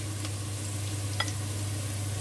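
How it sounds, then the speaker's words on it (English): Diced meat added to onions frying in olive oil, a steady loud sizzle filling the pan with a low hum beneath and a brief stir or clink partway through. "Now that our onion is ready, I'm going to add the meat."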